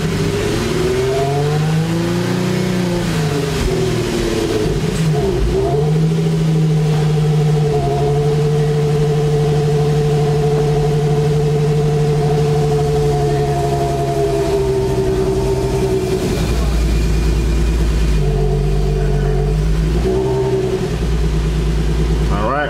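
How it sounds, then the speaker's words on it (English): An Infiniti G35 coupe with a swapped JDM motor runs close by, its engine tone rising and falling as the throttle is blipped, then settling into a steady drone, with someone talking over it. "Let's see if I can give it a little gas."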